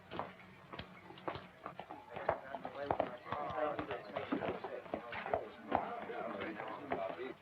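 Horse hooves clip-clopping at a slow, uneven pace close by, in a Western film scene, soft irregular knocks under people talking.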